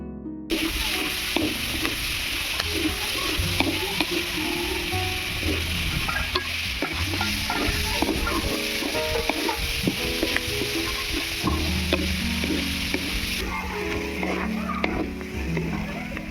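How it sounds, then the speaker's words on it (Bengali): Mixed vegetables fry together in a wok, giving a loud, continuous sizzle broken by frequent scraping and clinking as they are stirred. "সবজিগুলো আমি একসঙ্গে ভেজে নিচ্ছি"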